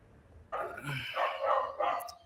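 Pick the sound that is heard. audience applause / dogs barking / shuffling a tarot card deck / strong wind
dogs barking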